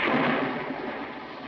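Thunder in a rainstorm: a brief, broad rushing crash that swells and slowly fades, fairly faint and with no talking over it.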